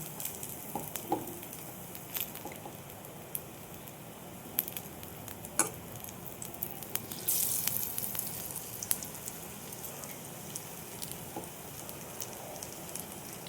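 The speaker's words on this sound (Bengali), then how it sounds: "আমি তেল দিয়ে যে কুমড়োগুলো নিয়েছি সেগুলো আমি ভেজে নেব বেসন দিয়ে" Pumpkin slices coated in gram flour batter frying in oil give a soft, steady sizzle with scattered small crackles and pops, faint and close, with no talking.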